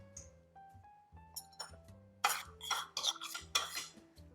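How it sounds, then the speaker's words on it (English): Chopped pineapple chunks being stirred into vegan hummingbird cake batter in a bowl, with a spoon scraping and clinking against the sides in quick bursts of close, wet mixing that grows busier partway through. "Then we're gonna mix in our pineapple chunks."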